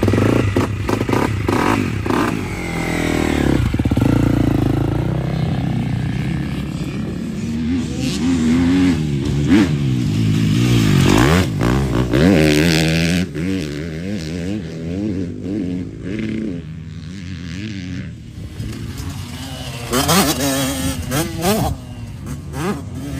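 Motorcycle engine revving and accelerating up and down through gears on a race track during warm-up laps, loud and close throughout with rising and falling pitch sweeps.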